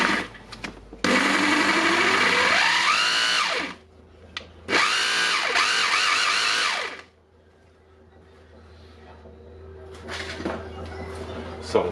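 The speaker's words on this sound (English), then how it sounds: "we can run it for the first time now. The first run must be slow." A Bosch GBH 2-24 DFR hammer drill runs slowly in two bursts, revving up and winding down each time, then near silence with faint handling noises before a brief final whir.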